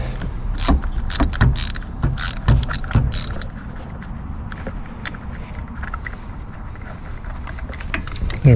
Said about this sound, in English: You do need a 16 mil socket to get them out.